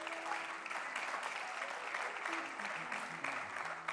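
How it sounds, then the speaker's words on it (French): Dense, steady applause from an audience at a Christian songwriting talk, a continuous wash of many hands clapping at moderate level, faint voices beneath. "On peut applaudir le serviteur de Dieu, s'il vous plaît."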